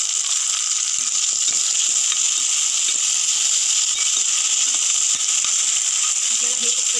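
Tomato and onion fry for palak paneer in a pan, a loud, steady, close sizzle and hiss that runs throughout with faint stirring scrapes underneath.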